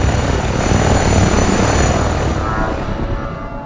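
A military helicopter in a war strategy game roars loudly overhead, its dense rotor and engine noise steady before fading slightly toward the end, with no talk.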